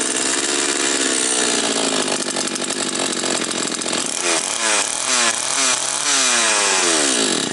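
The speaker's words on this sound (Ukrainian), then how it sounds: "Пила запускається, все, масло не качає." A Chinese gasoline chainsaw roars loudly up close, running steadily, then revving up and down in repeated throttle surges; the oil pump is faulty.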